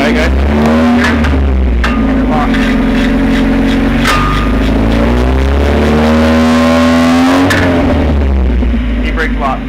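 A Mazda Miata fitted with a DIY drift e-brake revs and drives loudly up close, with the engine note rising and falling and tires working under load as the rear wheels lock.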